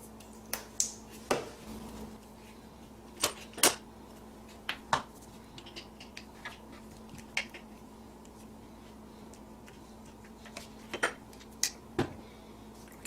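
A bottle cap is cut in half for a homemade alcohol stove, producing a series of sharp, close clicks and snips in irregular bursts over a steady low hum.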